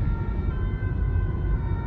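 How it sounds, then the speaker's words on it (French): A fire engine siren wails steadily and fairly loudly, sustaining its tone throughout with a dense rumble of traffic beneath it. "Ah non, c'est les pompiers, j'ai eu peur."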